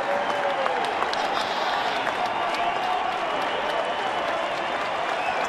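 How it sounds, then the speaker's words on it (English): Baseball crowd at a Yankees–Tigers game in Detroit, a dense, steady wash of applause and cheering from a large stadium audience that fills the whole stretch without letting up. "And again, here comes the crowd."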